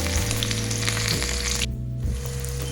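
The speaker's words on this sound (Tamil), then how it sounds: "இப்போ நம்ம வெங்காயம் போட்டு வதக்கிக்கலாம்" Onions sautéing in hot oil with cinnamon, cloves, cardamom and fennel for a chicken gravy, a loud continuous sizzle close by with a brief stir-like break, no talking.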